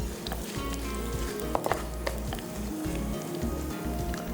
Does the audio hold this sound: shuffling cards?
no